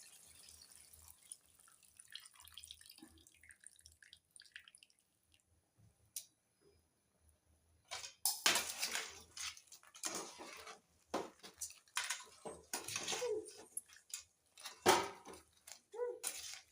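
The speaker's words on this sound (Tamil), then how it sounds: "புளியை கரைச்சி நம்ம தேவையான புளி ஊற்றணும்" Tamarind water is poured into crab curry and splashes wetly, with patchy close dripping and sloshing bursts in the second half after a mostly quiet start.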